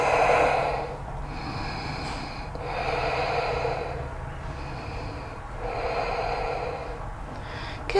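Slow, deep breaths during a prenatal yoga hip and shoulder stretch, several airy inhales and exhales in a calm rhythm, close and soft, no talk.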